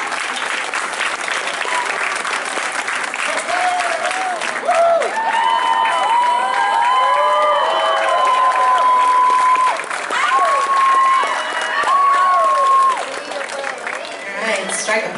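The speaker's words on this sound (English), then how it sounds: "Round of applause, please." At an anime convention, a crowd gives a convention cosplayer dressed as Titan from Destiny loud sustained applause with cheers and whoops. It keeps up for over ten seconds, while a voice calls out over it.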